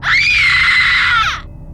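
A ghostly woman's scream as a horror sound effect, one loud, sustained high-pitched shriek of about a second that bends slightly in pitch and then cuts off.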